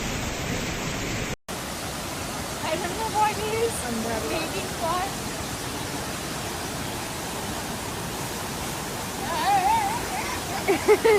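A forceful waterfall roars as a constant broad rush of falling water, with faint voices briefly audible over it toward the end.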